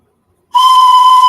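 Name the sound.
train whistle being blown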